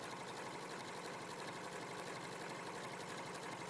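A sewing machine stitching a quilt border with a blanket or zigzag stitch, a steady fast mechanical whir and rapid needle chatter running without pause, quiet and even throughout.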